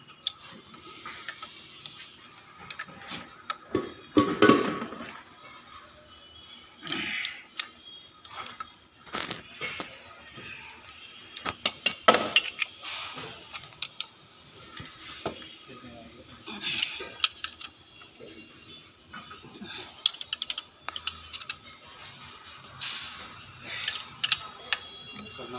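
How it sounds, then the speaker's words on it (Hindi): Timing belt being fitted onto an Audi A4 engine during a water pump replacement: scattered metallic clicks, ticks and tool clatter, loud near bursts around a few moments, with faint background noise. "अब हम चढ़ाएंगे बेल्ट।"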